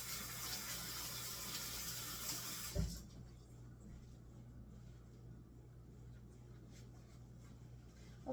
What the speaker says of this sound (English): First thing you want to do is wash your hands.